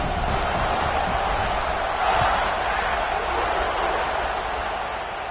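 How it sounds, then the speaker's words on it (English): A stadium crowd buzzes during a college football week 12 game against Texas after a score, a loud, steady roar that swells briefly, then settles back to a dense murmur. "this crowd is buzzing after that last score"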